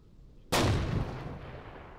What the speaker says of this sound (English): Rich threw a frag.